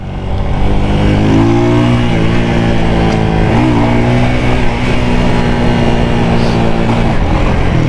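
A brand new 250cc Honda Rebel special edition motorcycle being ridden and revved up through its gears during break-in, the engine loud and close with rising and falling pitch as it shifts, continuous throughout.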